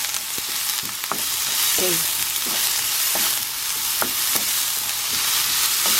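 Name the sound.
onion sauteing in pan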